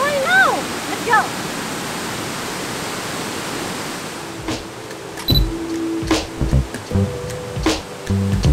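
Kuang Si Waterfall in Luang Prabang, Laos, a constant roaring rush of falling water, with people talking over it in the second half.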